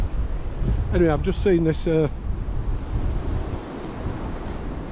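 Strong wind blows outdoors, a steady loud rumbling roar buffeting the microphone throughout, with a brief spoken phrase on top.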